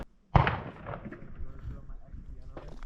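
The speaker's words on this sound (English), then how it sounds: "You can hear people out here shooting." A loud, sharp gunshot-like boom from people shooting at an outdoor range in Arizona, followed by a long rolling echo and a fainter second report near the end.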